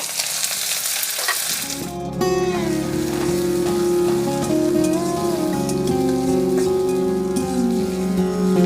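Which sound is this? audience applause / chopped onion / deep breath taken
chopped onion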